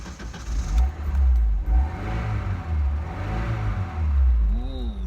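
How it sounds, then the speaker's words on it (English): A 1993 Alfa Romeo Spider Series 4 engine cranks and catches, then settles into a loud, close, uneven idle with a few rising revs and a brief whine near the end. "Let's start her up."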